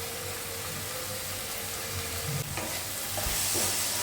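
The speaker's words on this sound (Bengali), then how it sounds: "নিয়ে এর মধ্যে দিয়ে দিচ্ছি ঢ্যাঁড়সটা, ভেজে রাখা ঢ্যাঁড়সটা দিয়ে কিছুক্ষণ আবার কষাবো" Fried okra being stirred and sautéed in a pan with ground melon seed and cashew paste for a Bengali dahi dharosh, a steady close sizzle with scraping stir sounds and a few louder clatters, no talking.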